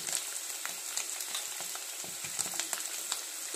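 Prawns sizzle in hot oil while being cooked for a Bengali stuffed kakrol dish, a steady close crackle with small irregular pops throughout.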